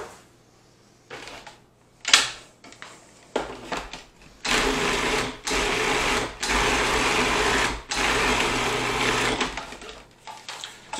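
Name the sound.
blender mixing keto pickle popper filling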